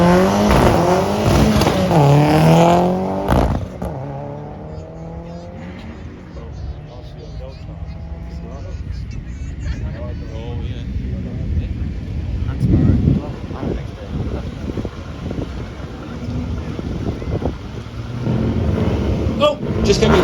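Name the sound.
1989 Toyota Celica ST165 GT4 turbo rally car driving downhill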